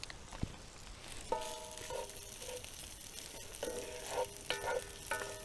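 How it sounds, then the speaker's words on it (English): Dirty rice sizzles and crackles in hot oil, a steady close frying hiss with occasional scraping stirs and clinks. "I'm going to try chuck the dirty rice in, fry that off for a second."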